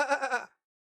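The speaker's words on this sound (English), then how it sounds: "Aviro, you hear sheep coming towards the door a little bit" A sheep bleats in a quick run of three or four quavering, close pulses that fade out within half a second, leaving silence.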